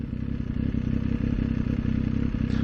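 A motorcycle settling to a stop on a brick-paved area and then idling in neutral, its engine giving a steady, close, low throbbing rumble with faint mechanical clatter and no speech.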